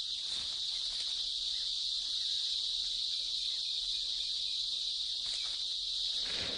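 A dense, steady high-pitched buzzing drone of cicadas fills the air continuously, loud and unbroken, with faint rustling underneath.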